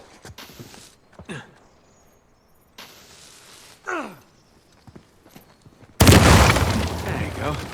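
An explosion blasts a door open in the Uncharted 4 video game, a sudden loud roaring burst that rumbles on after quieter game effects and some voice sounds.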